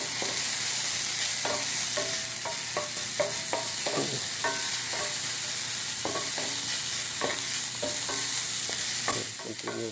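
Onions sauté in a hot pan with a steady sizzle and frying hiss, while a utensil scrapes and clicks against the pan in irregular stirring strokes, close-up with no voices.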